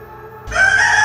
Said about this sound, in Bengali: কালো মোরগটা হঠাৎ দরজার কাছ থেকে উড়ে বুধনের ওপর গিয়ে পড়েছে।